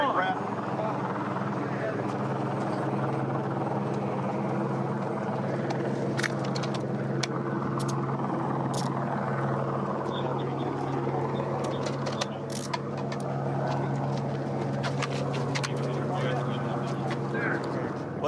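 A police helicopter circles overhead during a street arrest, its steady rotor drone droning continuously at a distance beneath people talking.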